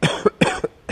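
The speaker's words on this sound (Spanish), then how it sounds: "sale la tos" Several quick, harsh coughs from one person in a broadcast news studio, in three or four bursts within a second, close to the microphone, with no speech.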